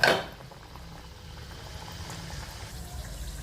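Moong dal kachori fry in hot oil over a low flame with a soft, steady bubbling, after a brief clatter at the start.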